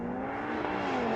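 Mercedes-AMG A45 S hatchback pulling away hard from a race start, a steady loud engine drone with a slowly rising pitch as it accelerates, heard alone.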